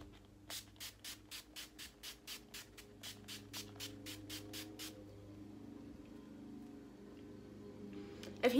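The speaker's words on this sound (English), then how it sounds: "now we gotta spray our base again" Makeup base setting spray misted onto a face while getting ready for homecoming, about fifteen quick, evenly spaced hissing pumps in a row, close and fairly loud, over a steady low hum with a faint mower-like drone, then quiet.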